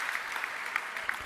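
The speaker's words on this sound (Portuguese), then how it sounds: "Você merece um aplauso." Applause from a church congregation, a steady patter of clapping hands with no voices, fairly faint and distant.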